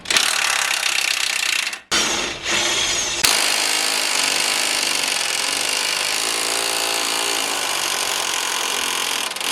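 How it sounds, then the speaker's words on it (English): A 3/8 drill grinds hard against 18mm shock bolts on an S10 Blazer during a lift kit install, a loud continuous whine that cuts out briefly near two seconds and then runs on steadily. "Well, 3/8 drill ain't strong enough for that boy."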